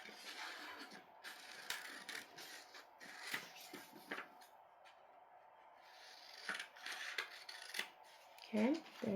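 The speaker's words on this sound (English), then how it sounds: "now what we're going to want to do is we're going to want to cut this out." Scissors snip and rustle through fabric being cut out for baby booties, quiet and close, in short bursts with brief pauses.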